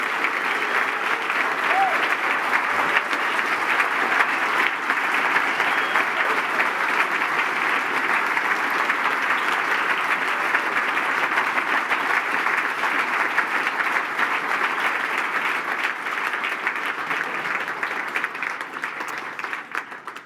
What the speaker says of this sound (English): one final round of applause for this great class